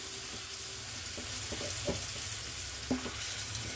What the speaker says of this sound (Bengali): বাটিটা ধুয়ে জল দিই, খুব ভালো করে নেড়ে দিই